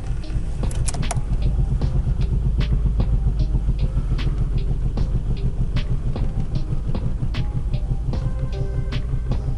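An Alfa Romeo 164 engine idles roughly with its air filter box removed, misfiring on a cylinder, giving a steady loud uneven rumble with scattered sharp clicks and ticks throughout, no voices.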